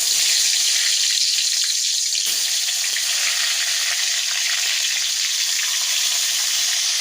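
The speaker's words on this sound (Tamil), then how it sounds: "நம்ம ஆயிலில் பொரித்து எடுத்துக்கலாம்" Brinjals stuffed with kuzhambu masala fry in oil, a dense, continuous sizzle and crackle that stays loud and close throughout, with a brief dip partway and no talk.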